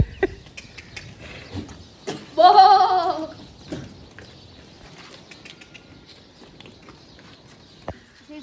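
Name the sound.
goats bleating on a farm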